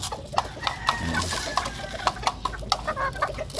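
Gamefowl of Kelso and black Bulik breeds clucking close by, with short repeated clucks and soft calls against a noisy yard background and faint talk.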